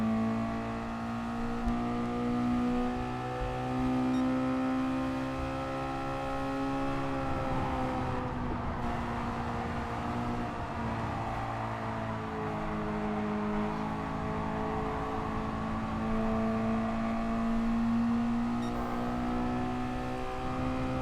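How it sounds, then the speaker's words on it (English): A race car engine drones and revs continuously through a race, its pitch sagging briefly midway as it nearly stalls before climbing back. The sound is loud and steady, with no talk. "The engine wanted to stall right there."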